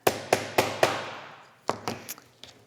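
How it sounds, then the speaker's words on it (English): A small hammer taps to set a metal grommet into fabric on a sewn drawstring makeup bag: four sharp, close knocks in quick succession, a pause, then another cluster of lighter taps. "you're just going to set it with a small hammer"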